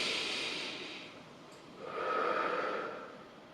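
Two deep, slow breaths during a stretching routine, one an airy inhale and one a longer exhale, close to the mic and fairly soft, with no talking.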